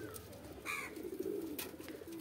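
A pair of market-bought pigeons, male and female, cooing close by in a soft, throaty rolling call that swells in the middle of a short, quiet stretch without speech.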